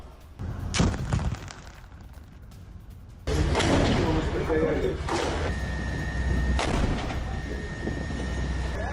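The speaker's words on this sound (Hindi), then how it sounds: "टैंक से हमास के ठिकानों पर शेलिंग की गई" Tank shelling and gunfire during a ground operation against Hamas positions in Gaza: sharp, loud blasts ring out near the start and again at intervals over a rumbling, noisy background, with a voice talking throughout.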